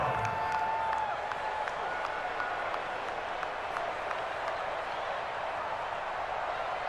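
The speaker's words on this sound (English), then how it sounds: "the crowd getting into it as we come up on a big 3rd down" Crowd noise from the stadium in Madden NFL 20 keeps up a steady wash of cheering and applause, moderately loud and unbroken throughout, with faint broadcast-style talk underneath.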